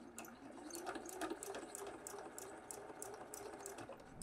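A sewing machine stitches fabric ears onto a small matchbox bunny toy with a narrow seam, giving a close, steady rapid needle patter that runs continuously without talk.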